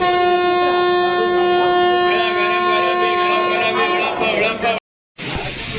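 A Vande Bharat train's long, loud horn blares continuously up close, shifting in pitch partway, then cuts out briefly before rumbling noise resumes.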